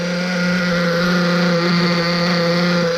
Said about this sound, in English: This Triton engine, I can feel it already, is going to be a bad ass.